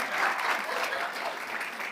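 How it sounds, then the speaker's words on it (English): An audience applauds steadily for an interpreter at an evening talk, a dense wash of many hands clapping at even loudness throughout. "give a round of applause, please, to this amazing interpreter"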